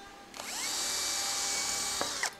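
A power drill with a nail serving as its bit bores into a thick block of wood: a sustained high whine for about two seconds, close and alone.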